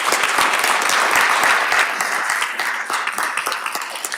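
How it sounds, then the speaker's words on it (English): An audience at a candidates forum claps loudly and steadily, and the sustained applause thins out toward the end. "A round of applause, please."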